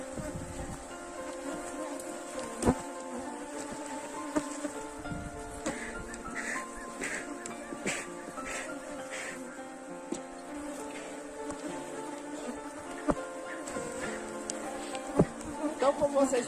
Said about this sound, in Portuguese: o enxame bastante na defensiva